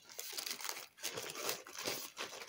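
Crinkling and tearing of plastic packaging from a Temu package as it is cut open with scissors and pulled apart, irregular rustling bursts close by, no talking.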